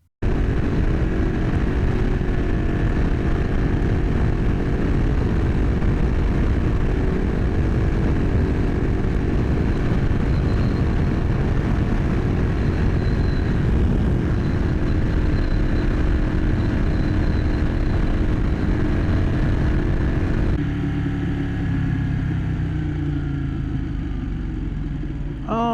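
Motorcycle engine on a ride, a loud, steady droning rumble held close for about twenty seconds before the tone shifts near the end, with no talking.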